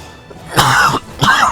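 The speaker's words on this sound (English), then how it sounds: "Or coughing." A single close, harsh cough followed by a raspy throat clear, two short bursts with a pause between them.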